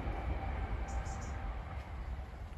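A train passes close by beside an exotic garden, a steady loud rumble of wheels and rail noise filling the whole moment without a break.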